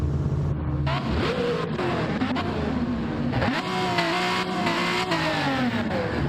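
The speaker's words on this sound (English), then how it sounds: "Hear some engines." Race car engines at the Nürburgring during a rolling start for a 2.4-hour series race, a continuous roar of several cars with rising and falling engine pitch as they accelerate and shift, fairly close and loud throughout.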